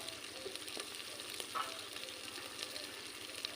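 Masala with chilli paste being stir-fried for a mutton curry, a faint, steady sizzle with light scraping of stirring in the pan, no speech.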